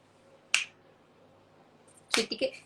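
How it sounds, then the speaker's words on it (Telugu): Finger snaps: one sharp, isolated snap, then after a quiet pause a quick cluster of two or three crisp clicks close by, set against a faint background hum. "చిటికే మీరు చిటికే వేస్తారా?"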